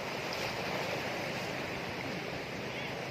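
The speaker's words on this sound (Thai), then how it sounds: "สายน้ำค่อนข้างแรงนะครับ" Strong floodwater current rushing over a flooded rural road, a steady broadband roar of churning water, continuous and fairly loud with no clear talk.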